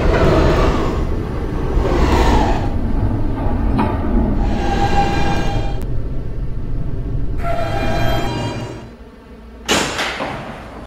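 A Roblox video game R160B Siemens E subway train rumbles along steadily with bursts of hissing and clattering, a loud thump near the end as it slows.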